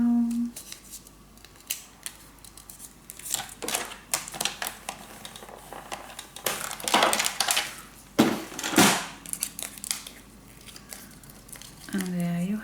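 Scissors cutting paper for a handmade burgundy mini album, irregular snips and slicing crunches with paper rustling and crinkling between cuts, close, with a voice speaking softly at times.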